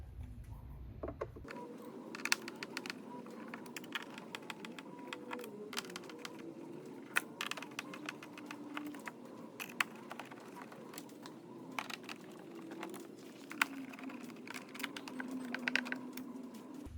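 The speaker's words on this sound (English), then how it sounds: "So I'll go ahead and get to removing all of these screws here" Screws being removed from the rear speaker panel of a BMW R18 motorcycle, heard as a steady run of small, close clicks and ticks from the tool and hardware with no talking.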